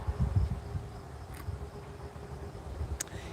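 Crickets chirp at night outdoors near a parked car, a steady insect buzz under a low background rumble, with no voices.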